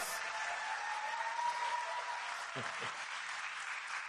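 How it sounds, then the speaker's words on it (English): Crowd applause for former mayor Henry Lowe at a presidential event on gun background checks, a dense sustained roar of clapping with a brief voice breaking through midway. "Give him a round of applause"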